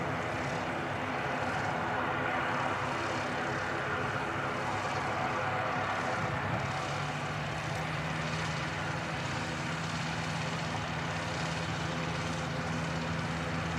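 Air Chathams ATR 72-500 turboprop at Christchurch Airport, a loud, steady propeller and engine roar with a constant low drone that holds throughout.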